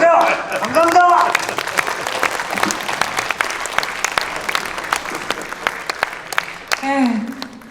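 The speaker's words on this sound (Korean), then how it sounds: "다시 한번 뜨거운 박수 부탁드립니다." An audience at a book launch event bursts into applause, strongest at the start and tapering into scattered claps, with someone speaking over it at the beginning and end.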